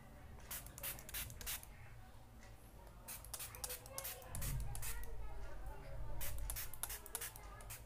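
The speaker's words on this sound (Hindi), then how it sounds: "मैं यहाँ पे आपको स्प्रे करके बताती हूँ" Homemade DIY hair spray hisses from a pump bottle onto damaged hair in a series of short, close bursts, with soft rustling and handling between them.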